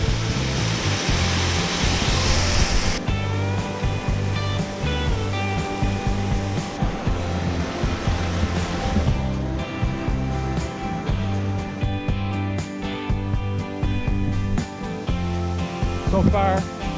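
Tama Falls waterfall on a hiking trail, a loud, steady rush of falling water filling the scene without a break, with a faint musical or tonal layer over it.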